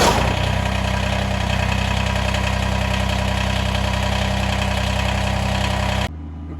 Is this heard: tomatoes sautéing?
no